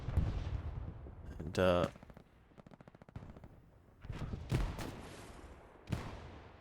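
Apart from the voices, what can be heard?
bombing run explosions, Hell Let Loose video game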